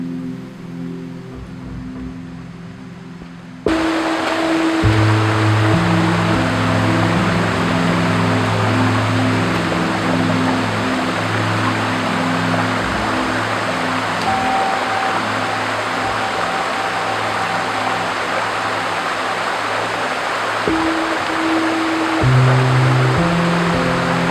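Steady rushing water from a waterfall and flowing stream fills the whole stretch, a dense continuous roar with low tones faintly audible near the start.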